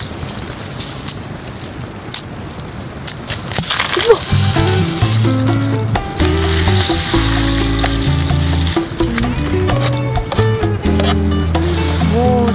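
Acorn jelly soup with rice warming in a pot on a camping stove during snowy winter solo camping on ice, with a steady low sizzle and bubbling simmer running throughout under loud music.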